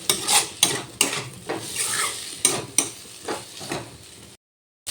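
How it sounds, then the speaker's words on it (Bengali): Fried figs are stirred and sautéed with a spatula in a hot pan, giving repeated scraping strokes over a light sizzle before a sudden cut to silence. "এবার যে ডুমুরগুলো ভেজে রাখলাম সেই ডুমুরগুলো দিয়ে দিলাম। সব কিছু দিয়ে আবারও ভালো করে কষিয়ে নেব।"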